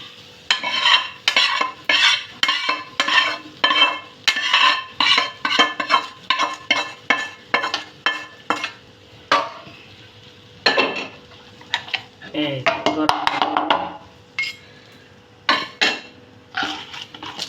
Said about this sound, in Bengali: বাকি মশলার সাথে এটাও মিক্সড করে নিচ্ছে